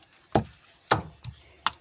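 Four separate dull slaps of minced meat being thrown down to firm it for patties, spaced unevenly, close and fairly loud with quiet between them.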